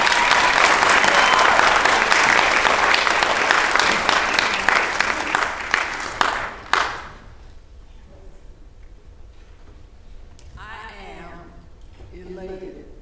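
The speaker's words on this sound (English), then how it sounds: "Let's all give them another round of applause" A school board meeting audience gives a loud, dense round of applause that fills the room for several seconds, then cuts off abruptly, leaving quiet room tone with a faint voice afterward.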